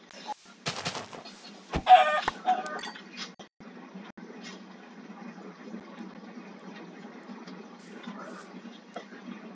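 Chickens in the Minecraft video game cluck in a few short bursts near the start, followed by a low steady game hum with faint clicks.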